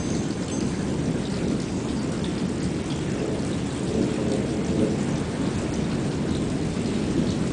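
Desert thunderstorm in Phoenix: heavy rain pours steadily while thunder rumbles almost without pause, a dense, loud, continuous roar with no voices.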